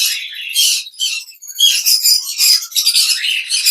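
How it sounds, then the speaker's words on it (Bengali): Birds at the Tongi bird market give loud, close, rapid chirps and shrill squawks in overlapping bursts, with short gaps between them. "এই হলো আজকে আমাদের পাখির কালেকশন"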